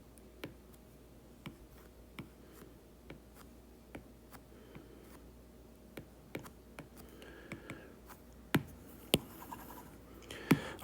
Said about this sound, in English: Let me draw it a little better.